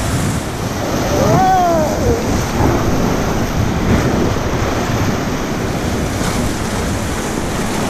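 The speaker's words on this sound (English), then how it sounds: "The waves are big." Whitewater waves on the Middle Fork of the Salmon River surge and splash in a loud, rough wash with wind buffeting the microphone, and a brief voice-like cry rises over the water early on.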